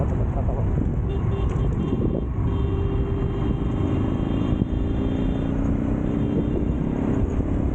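Trucks and other road traffic rumble past on a highway, a steady, loud low drone heard from a moving motorcycle, with a person talking over it.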